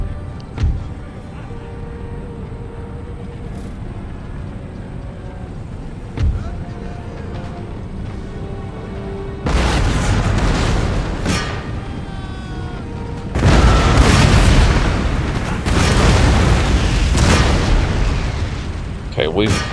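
Cannons firing canister shot in Total War: Empire, playing as the Russians: a loud, dense barrage of booming blasts and crackling bursts that swells in waves, under spoken commentary.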